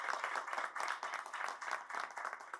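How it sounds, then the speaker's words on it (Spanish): An audience claps and applauds after a talk on a proposed new mining law, a steady patter of many hands at moderate distance with no voices over it. "Un aplauso para ellos por el conocimiento que nos han transmitido."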